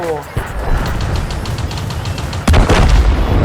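Tank cannon shots in the World of Tanks video game: a heavy boom early on and a second, louder blast later over rumbling engine noise, with a voice present.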